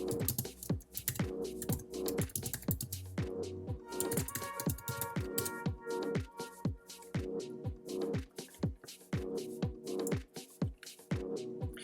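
Subtitles being typed on a computer keyboard, a rapid run of crisp close key clicks with brief pauses, steady and uneven in rhythm, with no talking.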